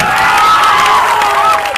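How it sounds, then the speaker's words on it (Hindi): A large crowd at an outdoor election rally in Bihar cheers and claps loudly, with a steady, dense roar of applause and shouting that holds throughout. "जोरदार ताली बजा के बंटी जी का स्वागत करिए।"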